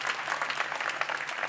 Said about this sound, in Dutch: ook applaus voor onze gespreksleider.